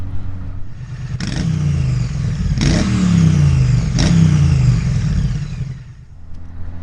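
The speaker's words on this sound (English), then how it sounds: "I'm out on the Honda Hornet, the SP version" A Honda Hornet SP motorcycle engine revs loudly while riding, with three sharp throttle blips followed by falling engine tone as it rolls on, steady and close over wind.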